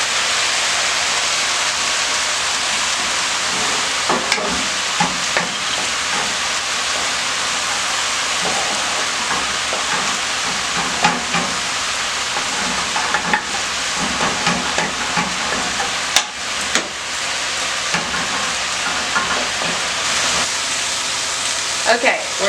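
A low carb stir fry of cabbage and egg fries in a pan, a steady broad sizzle and hiss running throughout with occasional clicks and scrapes of stirring.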